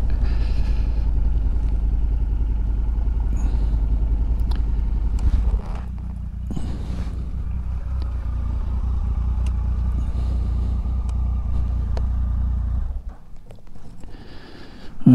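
Motorcycle engines idle steadily at the Mount Ainslie lookout in Canberra, a loud low rumble that drops slightly partway through and then cuts out near the end, leaving quieter ambient noise.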